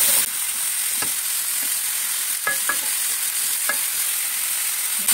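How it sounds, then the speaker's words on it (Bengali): Vegetables with tomato and green chilli fry in a pan for khichuri, a steady close sizzle broken by several sharp scrapes of stirring. "সবজি ভাজা হয়ে আসছে"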